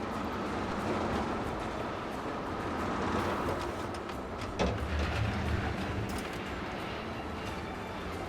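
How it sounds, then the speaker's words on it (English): A roller coaster train rolls steadily along its track in a theme park building game, a continuous rumbling roar with a faint clank midway, even and sustained throughout. "looks like that train is only halfway up that coast, halfway up the track"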